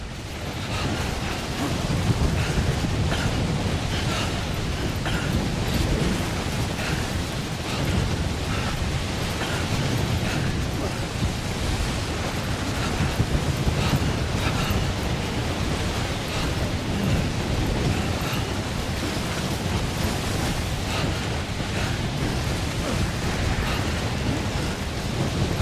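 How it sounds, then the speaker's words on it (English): Storm in Death Stranding heard during a whiteout on a mountain, a dense continuous roar of wind and rushing noise with deep rumbling underneath, loud and unbroken throughout. "We need to get above the storm."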